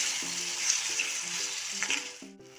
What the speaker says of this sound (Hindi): टमाटर को हम अच्छे से पकाएंगे।